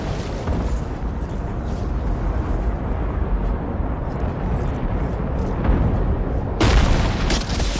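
Explosion in Death Stranding 2, heard as a sustained heavy rumbling roar with a louder burst near the end, dense and close with no talk over it.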